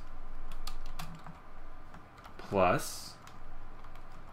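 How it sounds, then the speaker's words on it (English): Computer keyboard typing while entering code in an editor: a short cluster of quick key clicks, close and moderately loud, under and between a man's instructional speech. "go into your editor and type in puts"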